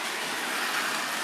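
Model train running on its track under speed control, a steady, even whirring rush with no clear rhythm, close and moderately loud, alone with no voices.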